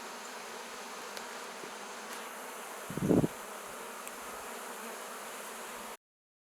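A wild honey bee swarm buzzes steadily near a beehive outdoors, a soft continuous hum with one brief closer burst of buzzing partway through.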